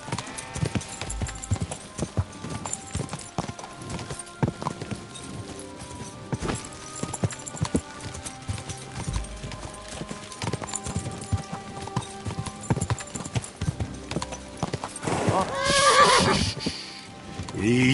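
Horse in the video game Kingdom Come: Deliverance II: a steady clip-clop of galloping hooves runs throughout under game music and sounds, with a loud whinny near the end.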